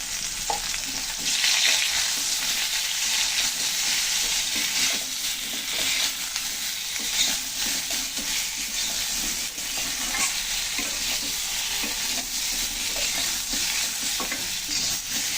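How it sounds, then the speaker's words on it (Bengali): Ridge gourd and potato curry frying in oil for a Bengali tilapia fish dish, a continuous, moderately loud sizzle with scraping stirring strokes throughout, and no voices. "তরকারিতে ভালো করে ভেজে নিলাম"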